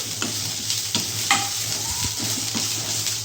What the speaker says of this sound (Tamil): இலையை ஆட் பண்ணி நல்லா வதக்கணும்